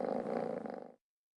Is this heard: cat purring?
yes